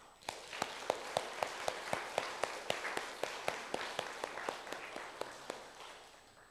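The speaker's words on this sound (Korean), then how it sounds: "일어나시면 잠깐 박수로 환영하겠습니다" A congregation at a church service claps to welcome a speaker: a faint, regular clapping that falls into an even rhythmic beat, steady and soft, with little else heard.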